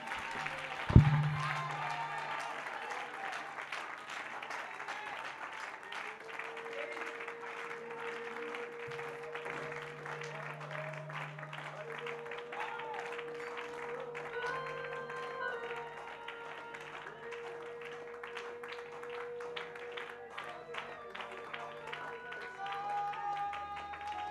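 A church congregation applauds and acclaims God in a steady, sustained wash of clapping with faint voices mixed in, after a single sharp thump near the start.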